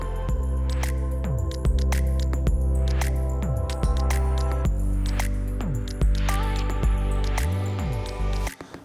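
A Rittal Perforex machine automatically machines a mounting plate, with a steady motor hum, repeated sweeping pitch changes as the spindle and axes move, and sharp clicks and knocks throughout.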